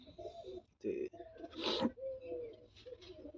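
Pigeons kept in a coop coo in low, throaty bursts, several short phrases close by, with faint background noise and a possible murmur of voices.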